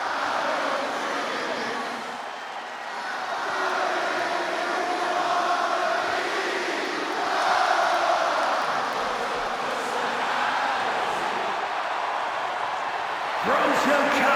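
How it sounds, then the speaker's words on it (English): A steady, loud arena crowd roars for CM Punk in a Chicago hometown match in the wrestling video game WWE 2K26, a sustained wash of cheering that swells and holds across the whole stretch. "Just listen to this ovation for the Second City Saint."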